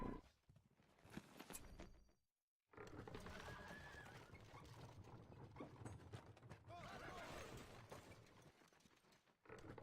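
Horse hooves clatter steadily in a busy Edain Mod strategy game soundscape, with mechanical clicks and a brief drop to near silence early on.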